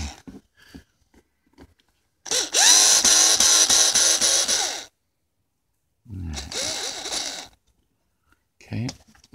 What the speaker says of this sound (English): So I've got my trusty cordless power drill here.